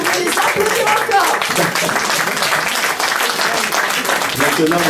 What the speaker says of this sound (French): Vous pouvez les applaudir encore.